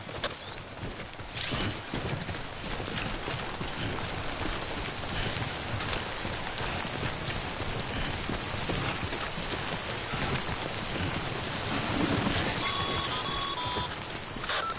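Timefall rain pours in Death Stranding on PS5, a dense continuous hiss of downpour with scattered pattering and a few faint electronic beeps near the end, heard without talking.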